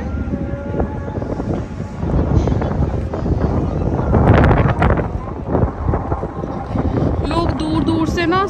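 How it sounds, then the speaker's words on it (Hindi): Strong wind buffets the microphone at a waterfront park in Doha, Qatar, a loud continuous rumbling gust that swells in the middle, with people talking underneath it. "देख कितनी अच्छी हवा चल रही है इस तरफ"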